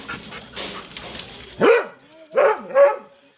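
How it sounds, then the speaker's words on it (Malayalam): A dog gives three sharp barks in quick succession, close and loud, after a stretch of low background noise, with no talking over them. "പട്ടി പേര് ചിക്കോ, സൂപ്പർ പട്ടിയാ."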